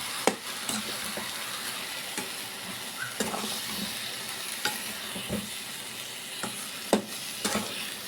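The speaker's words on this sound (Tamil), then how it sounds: "இதுவும் தக்காளியும் பச்சை வாசனை போகிற வரைக்கும் நல்லா வதக்கிக்கலாம்" Ground tomato paste sautéing in a pan for okra tamarind curry, a constant close sizzle and hiss broken by scattered sharp taps and scrapes of a stirring spoon.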